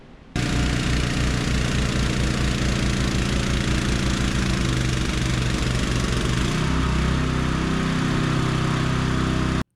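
Cheap Chinese mini digger with its small engine running steadily and loud up close, a throbbing idle-like drone that shifts slightly as the machine turns around, with no voices.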